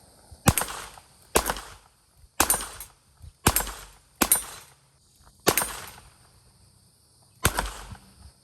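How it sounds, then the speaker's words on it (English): Rifle rounds are fired at a shooting range, heard as seven sharp, loud reports spaced irregularly, each followed by a short decaying tail against quiet background. "That was a rifle round."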